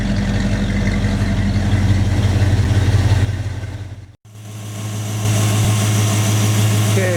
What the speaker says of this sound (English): It's idling pretty nice right now.